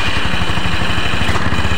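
Yamaha Mio Sporty motorcycle engine cranking and catching after a one-way starter repair, a steady low rhythmic chugging that runs close and loud for the whole stretch, with no voices.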